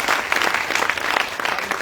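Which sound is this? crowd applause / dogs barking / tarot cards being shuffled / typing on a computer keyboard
crowd applause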